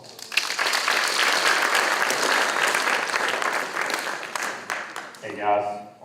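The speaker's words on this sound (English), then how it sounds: "just give him a round of applause" Sustained audience applause at a school prom assembly for a guest speaker, dense and steady for several seconds before tapering off, with a voice beginning to speak near the end.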